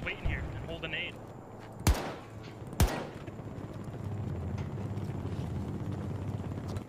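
Gunfire in the Battlefield 2042 beta, shots coming through a closed door: two sharp, loud bangs about a second apart over steady game noise and rumble.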